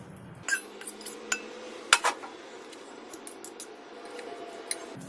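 A spoon scrapes and clinks against a pan as cold Maggi noodles are stirred in to mix with a beaten egg mixture: sparse, close metallic taps over quiet background, with no talking.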